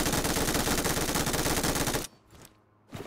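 Rapid automatic gunfire in the PUBG Mobile video game, a dense rattling burst of close, evenly spaced shots for about two seconds, followed by a quieter pause and a couple of fainter single shots.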